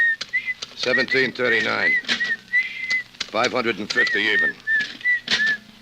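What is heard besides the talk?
person whistling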